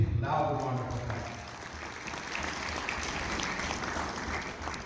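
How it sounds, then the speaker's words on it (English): Crowd applause at a Houston welcome dinner honouring Pakistan's ambassador to the United States, a dense sustained wash of clapping from a large audience, with a voice briefly audible at the start. "Please give them a big, loud round of applause."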